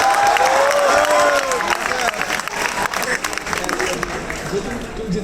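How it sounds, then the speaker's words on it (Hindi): A large audience at a university Q&A session breaks into sustained applause and cheering, loud and dense at first and then thinning into scattered clapping as a voice speaks over it. "तुम जितनी मर्जी ताली बजा"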